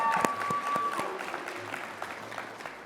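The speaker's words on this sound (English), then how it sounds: "let's give Janet a big round of applause" Audience at an awards ceremony clapping for an honoree, a faint, scattered patter of applause with a brief tonal beep near the start, thinning out toward the end.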